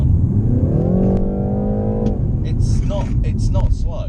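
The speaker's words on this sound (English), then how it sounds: "If I put it into sport now," A BMW 330i kicks down in sport mode, its engine surging loudly with rising pitch for about two seconds before settling. A person talks over the end of it.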